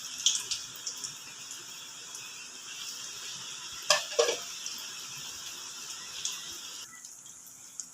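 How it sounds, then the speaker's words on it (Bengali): Thin raw potato slices fry in hot oil for crispy chips, giving a faint, steady hiss with a few soft pops and clinks, and the sizzle drops lower near the end. "তেল গরম হয়ে গেছে, আলুগুলো ছেড়ে দেবো।"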